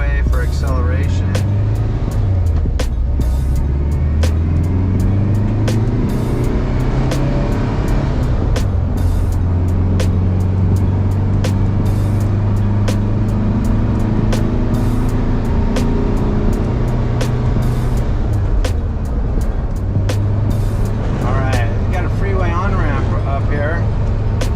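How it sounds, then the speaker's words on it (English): Volkswagen Westfalia van driving through the gears, a steady loud engine hum climbing in pitch and dropping at each shift, with road and wind noise throughout and someone talking over it. "let's get some footage going through the gears here"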